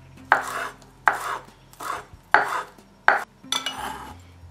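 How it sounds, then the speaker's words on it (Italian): A knife chops a small tuft of arugula into small pieces on a cutting board, five or six sharp, evenly spaced strokes, close and clear with no talking. "ho qui un po' di rucola, appena un ciuffetto. La taglio a pezzetti piccoli"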